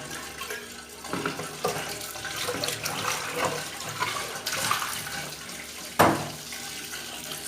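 Chicken pieces being washed under a running kitchen tap, with continuous splashing water broken by irregular clunks and handling noises and one sharp knock near the end.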